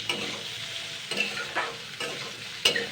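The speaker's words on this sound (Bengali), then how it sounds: "2 থেকে 3 মিনিট হালকা ভাজা করে নেব আগে" Vegetables and peanuts lightly frying in a pan give a soft, close sizzle, broken by several scraping stirs and a sharper clatter near the end.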